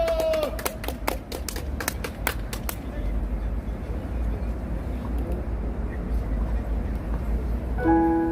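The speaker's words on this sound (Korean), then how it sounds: "박수!" Rhythmic clapping at an outdoor rally in Gwanghwamun before a hymn, a few sharp claps in the first three seconds fading into a steady crowd murmur.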